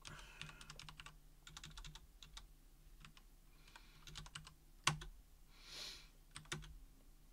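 Quick bursts of keystrokes on a computer keyboard during an Ubuntu 20.04 terminal session, close and fairly quiet, with a few harder key hits standing out near the end.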